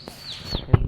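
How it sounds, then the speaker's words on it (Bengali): A single bird gives a brief descending whistle call close by on a misty morning walk, followed by a short thump-like sound. "মানে সুন্দর পাখির ডাক"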